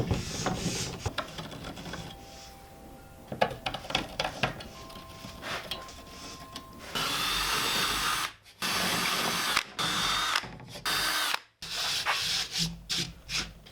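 Wooden brackets slide and scrape along the rails of a solar panel roof rack for a camper as the floor boards go in, giving bursts of rubbing and sanding-like friction, close and fairly loud, with short silent gaps and no talk.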